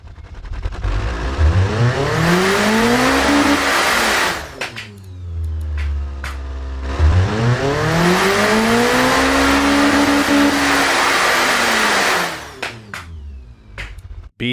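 A powerful longitudinal engine in a 4x4 car in the Automation tycoon game revs hard, climbing and falling twice in long sweeping pulls, loud and close, with brief gaps and crackles between the runs.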